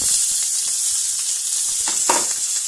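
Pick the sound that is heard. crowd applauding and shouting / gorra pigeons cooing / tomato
tomato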